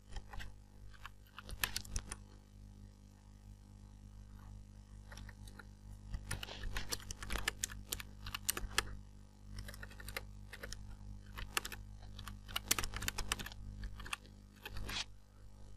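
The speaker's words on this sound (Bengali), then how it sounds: "আমি লিখে দিচ্ছি।" Fingers type on a computer keyboard in quiet, close bursts of rapid key clicks separated by short pauses, over a low steady hum and with no talking.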